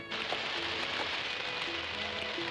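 Steady rain falls in a constant, dense patter at even volume throughout, with faint tonal sounds in the background of a Maya Bazar film scene.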